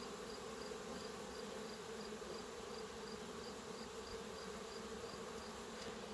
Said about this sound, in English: you could really appreciate how many bees are here